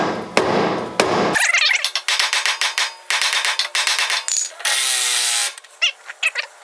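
Hammer blows on a part of a BMW during an LS engine swap, a quick series of sharp metallic strikes ringing out close by, with a few scattered taps afterward.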